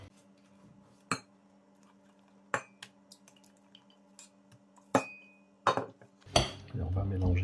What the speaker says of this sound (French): On va mélanger la purée de fraises. Et on va rajouter la chantilly.